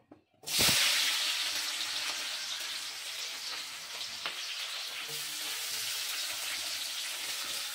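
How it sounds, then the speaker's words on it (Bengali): Onion drops into hot oil with a sudden burst of sizzling that stays loud and steady for several seconds, with a faint clink partway through. "এই যে প্রথমে পেঁয়াজটা দিয়ে নিলাম তেলে, দিয়ে পেঁয়াজটা একটু ভাজা ভাজা করে নেবো"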